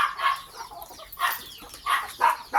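Several farm chickens cluck in short, bright bursts while being called to feed, a handful of quick calls scattered close by with brief gaps between them.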